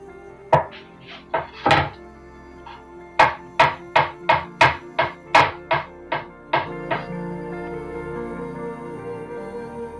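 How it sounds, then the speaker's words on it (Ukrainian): A knife chops boiled eggs into strips on a cutting board in a quick run of about a dozen crisp, evenly spaced taps, close and clear. "І нарізаю соломкою яйця."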